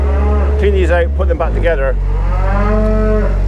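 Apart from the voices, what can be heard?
cattle mooing in barn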